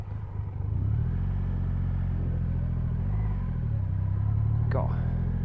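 A Triumph Rocket 3 R motorcycle engine thrums deep and steady while riding, rising slightly in pitch through a couple of throttle swells, with a brief sharp rattle near the end and a voice heard over it.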